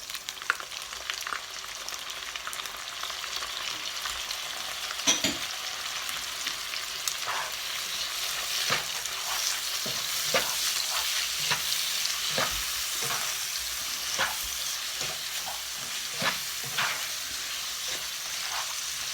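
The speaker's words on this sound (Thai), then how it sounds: "ต้องผัดไข่กับกุ้งให้สุกนะคะ" Egg and shrimp stir-fried together in a pan for shrimp pad thai, giving a steady close sizzle broken by repeated scraping taps of the spatula, with no talking.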